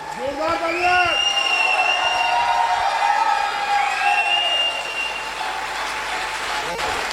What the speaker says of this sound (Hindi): तो मुकेश जी के लिए ताली होनी चाहिए